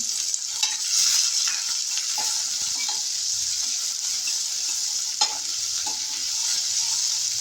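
Chopped onion hits hot oil seasoned with kalonji and fennel seeds, a steady bright sizzle with occasional stirring scrapes and small pops, close and loud throughout, no voices.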